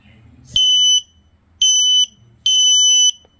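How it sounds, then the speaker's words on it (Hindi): An Arduino-driven buzzer on a smart classroom door alarm sounds three loud, even electronic beeps, each lasting about half a second and separated by brief silences. "ये दरवाज़ा खोलेगा नहीं तभी क्या साइरन देगा।"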